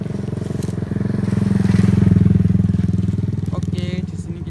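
A motorcycle passes close by on a village road, its engine rising to a loud throbbing rumble near the middle and then fading slightly, with brief voices and clatter near the end.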